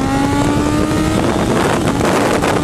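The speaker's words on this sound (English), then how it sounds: "you feel the rumble of the engine" A street motorcycle engine rumbles loudly and close while riding, a steady roar with a rising whine and heavy wind buffeting against the microphone.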